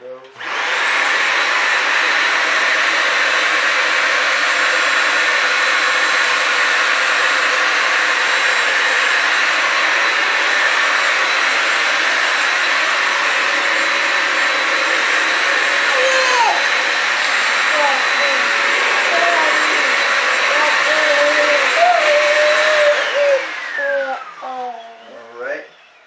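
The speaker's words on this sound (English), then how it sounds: "So I'm gonna vacuum that up right now." A Bissell Symphony vacuum cleaner roars steadily and loudly for over twenty seconds while picking up cereal, a few rattling pickups audible, then winds down and stops; a voice is heard briefly.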